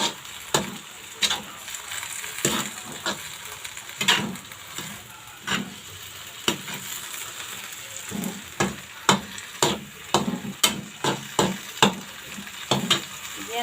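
Alugbati greens sautéed with spicy canned sardines, a spatula scraping and clacking against the pan in a steady irregular rhythm over a constant bed of close, loud frying sizzle, with no voices.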